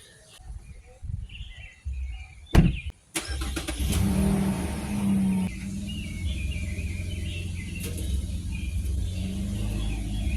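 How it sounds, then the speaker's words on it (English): A 2017-2022 GMC Canyon or Chevrolet Colorado pickup drives up onto ramps: the engine starts low and rises as it climbs, with a couple of sharp knocks near the start and steady engine rumble, birds chirping faintly in the background. "Let's get the truck on the ramps now."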